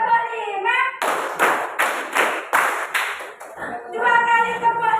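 Children clap a counted rhythm pattern in a classroom, five sharp group claps in a row, with young voices speaking and chanting just before and after the claps.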